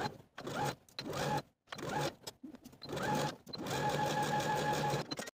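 A sewing machine stitches the seam of a kimono jacket with a 1/4 inch allowance, running in several close, steady bursts separated by brief pauses, the longest run near the end.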